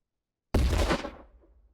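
A grenade blast in the military shooter Afterconflict: one sudden loud boom after half a second of silence, with a broad rumbling body that decays over roughly a second into a faint tail.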